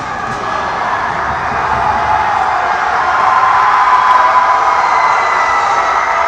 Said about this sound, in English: South St. Paul crowd is loud and cheering.